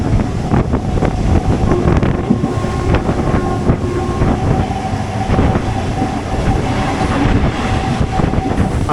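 A MEMU electric train on the Nilambur–Shoranur line rumbles and rattles continuously from inside the carriage as it slows from about 80 km/h approaching Vallapuzha, with wind buffeting throughout.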